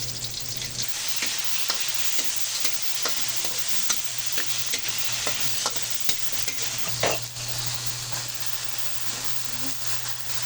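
Garlic fries in oil in a pan for a home-cooked ginataang pechay, with a continuous close hiss, frequent small crackles and a steady low hum underneath, and nobody speaking.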